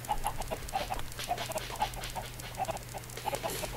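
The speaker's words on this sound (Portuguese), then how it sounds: "Barulho irritante das galinhas." Chickens in the video game Minecraft cluck repeatedly in short, irregular bursts, fairly faint and close, with a low steady hum underneath and no talking.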